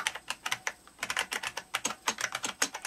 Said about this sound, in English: this keyboard can actually be used by a touch typist